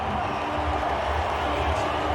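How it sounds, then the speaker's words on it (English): A large crowd roars steadily at a West Indies versus Sri Lanka Cricket World Cup 2007 match, a dense, continuous cheer heard from a distance with no breaks. "Chandrapal sends the crowd into ecstasy"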